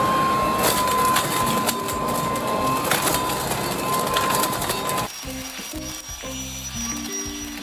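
A WORX TRIVAC 12 amp electric leaf blower switched to vacuum mode roars loudly and steadily while sucking up leaves, with a rattling, crunching texture, the pitch and intensity shifting partway through.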